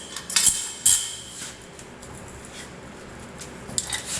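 Metal clatter from a steel friction jack flipped over beside rebar and rails: two sharp clinks near the start, then quieter handling noise and a faint tap near the end.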